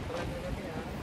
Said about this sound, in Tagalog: medyo hindi pa siya masyadong malakas yung hangin niya.